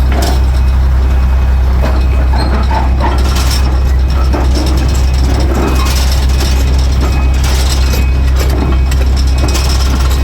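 A truck with a trailer freshly hitched on a pintle hitch drives at a septic system install site, its engine rumbling loudly and steadily with a strong low drone throughout.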